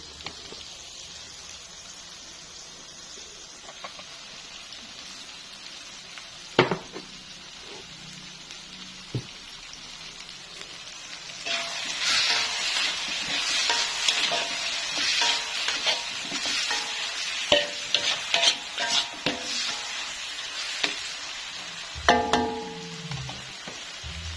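Spice paste being fried and stirred in a pan, starting quiet with occasional knocks, then swelling into a louder crackling sizzle with scraping stirs in the second half, no talk.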